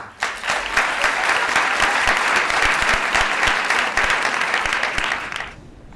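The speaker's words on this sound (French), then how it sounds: "applaudissez Yoann" An audience at a pleading competition final breaks into loud, steady applause, a dense wash of clapping with a few sharper individual claps standing out, lasting several seconds before cutting off.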